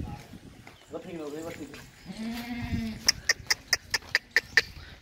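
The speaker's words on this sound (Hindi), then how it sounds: "ये देखें खूबसूरत बकरियां" Goats for sale at a farm market bleat in wavering calls close by, then a quick run of evenly spaced sharp clicks follows, with background voices underneath.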